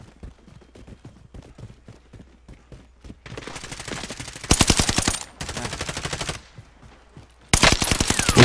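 Rapid bursts of automatic gunfire in a video game match set in Caldera, starting with scattered single shots then breaking into loud, sustained volleys with brief pauses between them, close and dominant.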